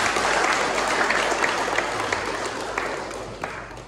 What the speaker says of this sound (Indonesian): Sekali lagi aplaus untuk Bapak Pendeta.